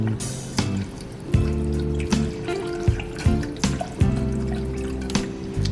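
Milk or heavy cream pours into a pot of seafood mac and cheese, a steady liquid splashing and gurgling with a few louder thumps and clinks along the way, close up and without talk.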